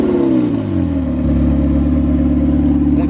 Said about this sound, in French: Là, on a deux Elva qui vont partir ensemble.